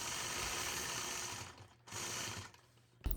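A sewing machine runs steadily while machine-quilting an Apache quilt block, its motor whirring in continuous bursts with brief pauses between stitching runs and a sharp click at the end.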